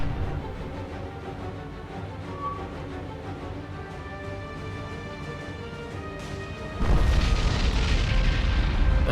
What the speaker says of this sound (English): has caused a massive magazine explosion, so we are going to stop and watch her burn